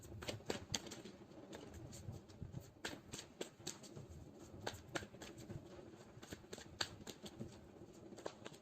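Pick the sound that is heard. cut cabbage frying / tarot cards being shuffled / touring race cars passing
tarot cards being shuffled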